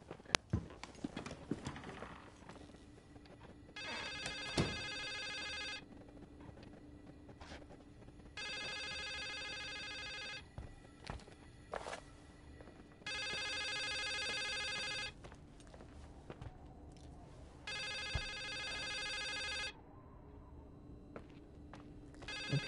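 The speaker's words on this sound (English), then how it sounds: "there's only one phone in here, but it's not coming from that phone" Telephone ringing in The Sewerslide of Rachel Foster: a bell-like ring repeats in evenly spaced bursts of about two seconds each. Footsteps clop softly between rings, with no talking.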